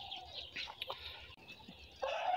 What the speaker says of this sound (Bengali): তো এটাতে হচ্ছে কক মুরগি